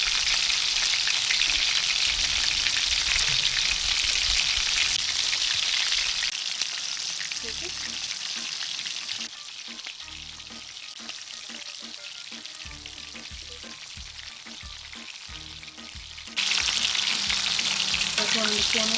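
Shrimp wonton sticks deep-frying in oil, a loud dense bubbling sizzle that softens midway and then swells again, with a few faint clinks.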